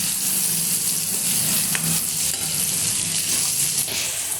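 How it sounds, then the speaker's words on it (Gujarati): Onions fry in a pan for a restaurant-style vegetable pulao, giving a loud, close, continuous sizzle with faint scraping from stirring throughout, and no talking over it. "હવે આપણે આમાં ડુંગળી ઉમેરીશું।"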